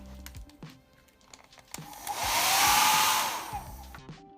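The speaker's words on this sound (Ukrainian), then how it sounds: "Тепер треба підсушити феном." A few light clicks, then a hair dryer whooshes on, blows steadily and loudly for a couple of seconds to dry paint, and switches off.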